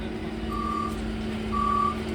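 An ElDorado bus sounds two steady, high-pitched reversing beeps spaced about a second apart, each lasting around half a second, over a low engine drone and background street noise.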